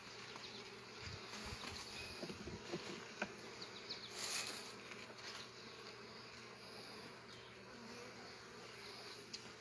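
Honey bees buzz around an open beehive in a faint, continuous drone, with individual insects passing close now and then and small clicks and rustles mixed in.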